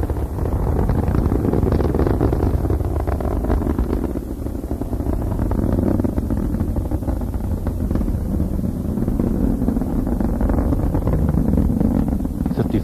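Space Shuttle Endeavour's three liquid-fuel main engines roar during launch, a loud, continuous, dense rumble with buffeting wind-like noise that stays steady throughout with no speech.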